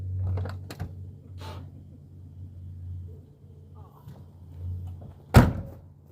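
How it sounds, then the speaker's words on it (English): A door in a three-car garage is shut hard, giving one sharp, loud bang near the end after a stretch of quiet low hum and faint shuffling. "Oh, I closed that door a little hard"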